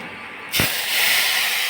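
Spices hit hot oil with a sudden loud burst of sizzle for tempering bitter gourd, the crackle settling into a steady hiss that carries on alone.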